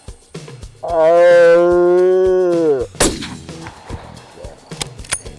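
A New Zealand red stag lets out one loud, close, drawn-out roar lasting about two seconds, followed by a sharp crack and scattered rustling and movement noises, with no talk.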